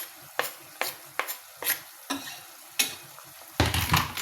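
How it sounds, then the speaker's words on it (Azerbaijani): Chopped onions being stirred into frying meat in a pan for qrecka, a series of sharp spoon scrapes roughly every half second over a continuous sizzle, close and clear, with a louder burst of frying at the end. "Və yaxşıca qarışdırırıq ki, soğan da bununla beraber belə deyək pişsin."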